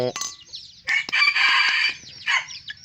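A rooster crows loudly and close by, a long ringing call with clucking and other fowl calls around it.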